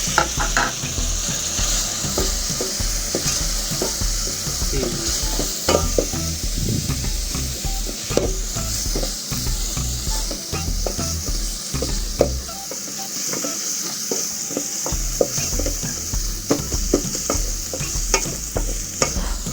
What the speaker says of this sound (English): Then next I'm going to add my spices, starting with the ginger, the garlic, and all my spices.